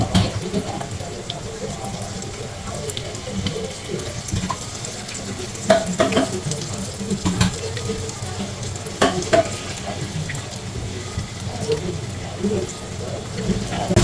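Vegetable pancake batter sizzles and fries in a pan with steady crackling and occasional stirring scrapes, close and continuous throughout.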